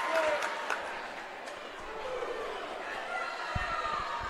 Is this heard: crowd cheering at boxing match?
yes